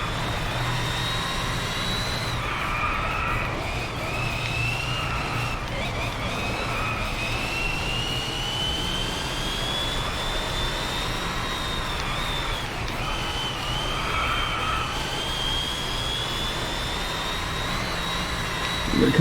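A video game race car engine whines steadily at high revs, pitch rising and dipping with gear changes, loud and continuous with no talking.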